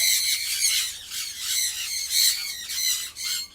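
Galah cockatoo in an aviary flight cage, giving a continuous run of harsh, raspy squawks that pulse in rough waves, loud and close, with no talking.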